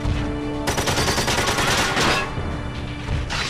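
Rapid, loud video game gunfire rattling almost continuously, with dense repeated shots layered over combat noise and a brief gap near the end before firing picks up again.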